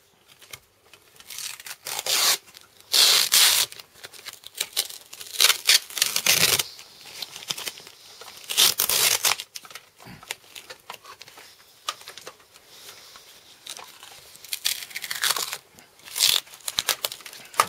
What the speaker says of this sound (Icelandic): Límbandið ætlar ekkert að losna einu sinni, sko.